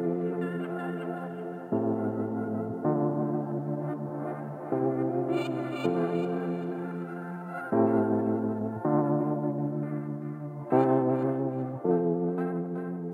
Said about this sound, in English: That's a granular effect